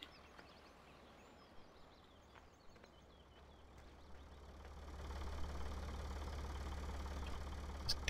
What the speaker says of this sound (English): Sticky little tractor. Look at it,